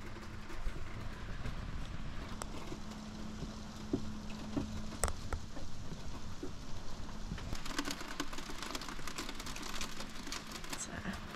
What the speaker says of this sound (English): It's pretty gross out, but the rain will make the snow melt faster